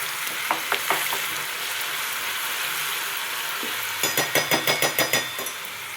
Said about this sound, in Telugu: ఇదిగోండి వెల్లుల్లి మంచిగా వేగుతూ ఉంది కదా